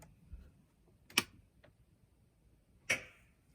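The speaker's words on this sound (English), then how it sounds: "That's the gas valve opening on the boiler itself." Two sharp mechanical clicks a couple of seconds apart, faint against a quiet background hum: the gas valve snapping open on a Truma modular heating and hot water boiler.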